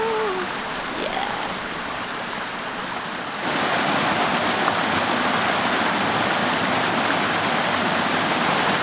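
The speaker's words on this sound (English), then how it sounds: "I turn around the corner, and guess what's behind me? Another waterfall." A waterfall on the Caerfanell River rushes as a dense, constant roar of falling water, noticeably louder after a few seconds as it comes into view close by, with no voices.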